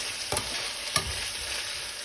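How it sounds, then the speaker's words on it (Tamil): Tomatoes sautéing in oil left over from frying dried fish give a steady close sizzle, with two brief scraping stirs of a spatula in the pan and no talk. "இந்த தக்காளி வந்து நல்லா சாஃப்டாக ஆகிற வரைக்கும் வதக்கணும்."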